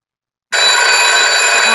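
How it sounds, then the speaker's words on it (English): A telephone bell rings out suddenly after a half-second of silence, a loud, close, sustained metallic trill that carries on to the end. "Oh, the phone is ringing."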